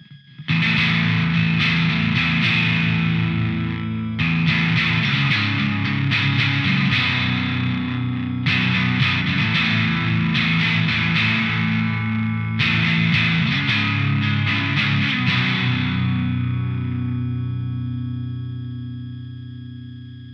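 Electric guitar from a Gibson SG in the middle pickup position, run through a Death By Audio Germanium Filter pedal with knobs near noon, plays four loud, clangy, distorted strummed phrases in a row, with no talking, and the last one rings out.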